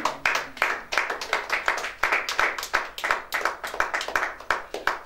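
A church congregation claps together in steady rhythm to acclaim the Lord, with many hands forming brisk, even beats that continue without pause and no voices on top.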